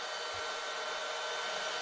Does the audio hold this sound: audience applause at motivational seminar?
no